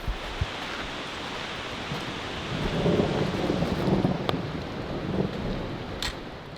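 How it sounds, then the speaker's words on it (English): Thunder rumbles low and long through a canyon in the Teton mountains, swelling in the middle and then fading, mixed with steady rain and the rush of nearby cascades. "The sounds of thunder echoed through the canyon"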